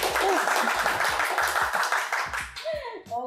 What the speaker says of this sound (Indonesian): Tepuk tangan buat Mas Razi.